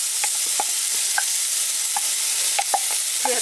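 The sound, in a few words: onions and jackfruit sauteing in a pan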